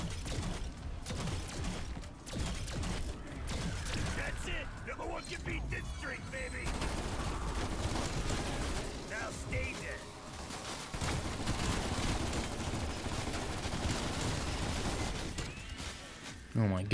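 Rapid bursts of gunfire from a weapon in Call of Duty Zombies on the Mauer Der Toten map, fairly loud repeated shots with mechanical clatter between them, steady throughout.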